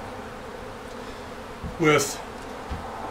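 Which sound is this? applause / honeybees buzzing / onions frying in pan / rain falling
honeybees buzzing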